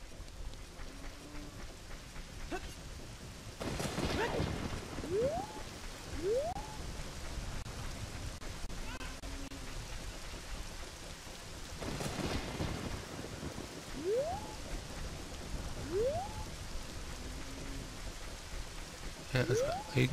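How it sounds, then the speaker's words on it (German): Rain falling steadily with periodic thunder rolls in the video game Ocarina of Time, accompanied by recurring rising whistle-like game tones and brief voice sounds, at a moderate level throughout. "Einmal fängt es an zu regnen."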